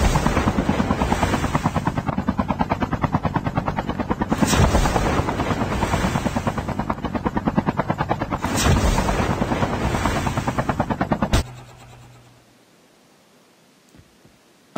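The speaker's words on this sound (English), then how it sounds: "there's a chopper on that too" A helicopter in the Call of Duty video game thumps with a loud, steady rotor chop for about eleven seconds before cutting off abruptly into near silence, with no talk.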